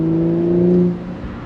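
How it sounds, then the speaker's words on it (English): A 2022 Audi S5 V6 convertible idles with a steady exhaust drone, close and fairly loud, as the throttle eases off and the note drops away near the end; any slight exhaust pops are subtle. "if you listen, you're getting these slight pops from the exhaust"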